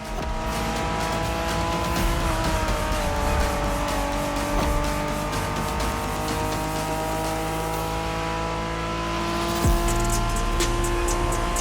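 A 1990s Honda NSX howls through The Crew Motorfest, its engine screaming at high revs with gear shifts and tire squeal, loud and steady throughout, with a sharp shift or skid near the end.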